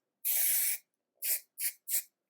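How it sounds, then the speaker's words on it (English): Four bursts of hair texture spray hissing close by: one long spritz followed by three quick short puffs, with silence between them. "Today I think I want texture spray. Very light spritz."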